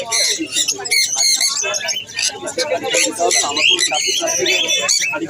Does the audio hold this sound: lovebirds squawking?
yes